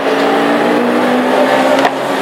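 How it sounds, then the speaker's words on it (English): Classic hot rod race cars roar down the home straight at Hednesford, a loud continuous engine drone with a brief sharper burst near the end. "the rest of the traffic thunder on down the home straight for the first time"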